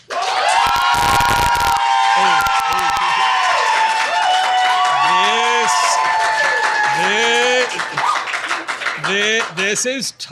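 An audience at a debate event claps, whoops and cheers loudly in a mixed crowd, with shouted and high voices rising and falling. The cheering holds for several seconds and then breaks into scattered yells.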